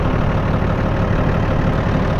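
Tractor engine idling outdoors near a hedge, a loud, close, steady rumbling drone with constant low knocking throughout, with no voices over it.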